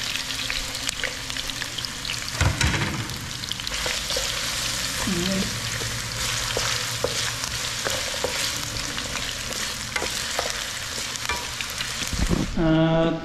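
Potatoes fry in hot oil, crackling with a dense, continuous close sizzle with occasional stirring clicks, while a voice speaks briefly over it.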